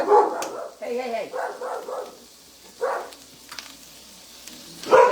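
Dogs next door bark in a quick burst of several yips and woofs, then a couple more scattered barks, fairly close, heard over a faint sizzle of steak cooking in a pan while someone talks.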